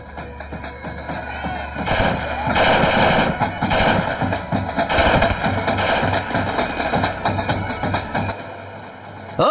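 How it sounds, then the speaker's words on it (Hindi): Rapid bursts of gunfire crack and rattle in dense, irregular volleys of celebratory firing, loud and close, with some shouting mixed underneath. "अरे खुशी में फायरिंग क्यों करेगा यार?"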